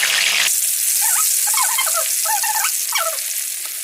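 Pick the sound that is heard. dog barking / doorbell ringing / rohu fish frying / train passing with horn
rohu fish frying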